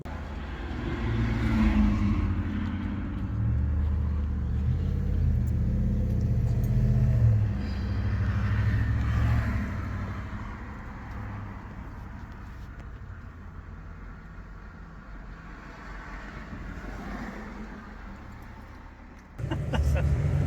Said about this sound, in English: Look who's driving her new car.